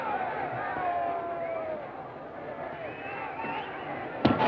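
A large baseball stadium crowd roars and cheers in a dense, steady wash of voices at a night game in St. Louis. The noise stays loud throughout, and a sharp knock near the end cuts briefly through the din.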